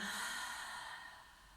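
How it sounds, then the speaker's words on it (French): Slow, soft breath drawn in and let out during a calming sophrology relaxation exercise, close and quiet, a single gentle exhalation fading away with no talking. "Et on inspire et on expire."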